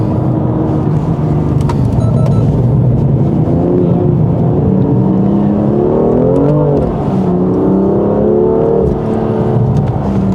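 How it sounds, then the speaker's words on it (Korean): BMW F87 M2 Competition accelerating out of a corner at the BMW Driving Center, heard from inside as a loud, steady engine roar whose pitch climbs and sweeps through the gears. "코너 탈출할 때 그 가속 페달을 좀 밟아 나가면 여지없이 그 뒤가 털린다고 하죠"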